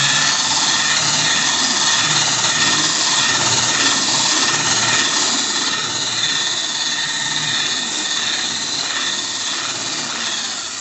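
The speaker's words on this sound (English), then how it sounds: "I just use like the sanding machine" Power sander working steadily on bare metal, stripping the factory finish from floorboard panels of a 1980 Triumph TR7; continuous loud, close whirring grind that holds for the whole stretch and eases slightly toward the end.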